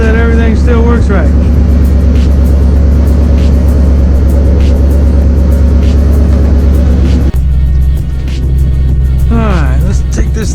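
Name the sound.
Ford Mustang GT driving after alternator replacement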